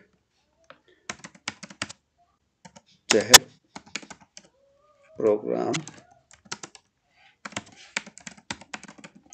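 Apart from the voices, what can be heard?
computer keyboard typing a remark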